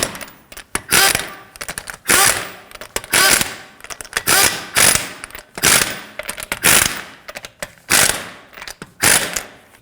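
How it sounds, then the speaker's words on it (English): A ratchet snugs lug nuts onto the wheel of a 2013-2015 Subaru XV Crosstrek during a rear brake caliper job, giving loud, close bursts of rapid clicking that repeat in short pulses with brief pauses between them. "Snug the lug nuts down, but don't over tighten them"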